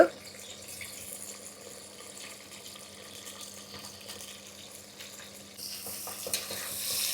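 Sliced onions with curry leaves and pulao spices fry in a pan, a soft, even sizzle with light stirring scrapes that grows louder and brighter near the end.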